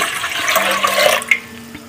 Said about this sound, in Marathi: हे बघा आता उकड काढायसाठी मी ह्याच्यात पाणी ओतून घेतोय